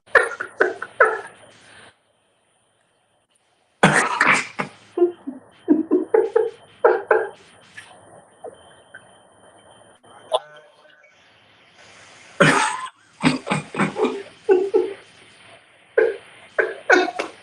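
A person talks in short bursts, broken by abrupt, harsh coughs, with a quiet pause partway through.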